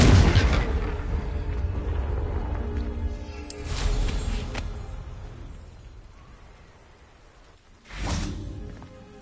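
Fiery blasting spell from a wand in a fantasy wizard game, a loud burst with a rumbling tail at the start, followed by more booming impacts, then a sharp second blast near the end.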